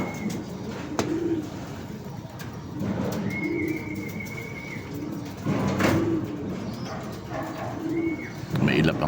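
A pet pigeon or dove coos in repeated low bursts outdoors in Lucena on a fine day, the calls moderately near and interspersed with background noise and an occasional higher chirp.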